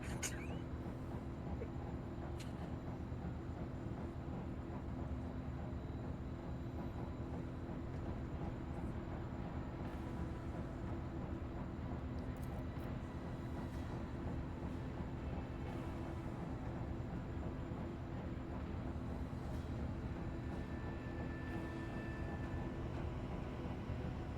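A train in the video game Warhammer 40K Rogue Trader gives a faint, steady low rumble that drones on evenly for the whole stretch, with a few small clanks on top and no talking.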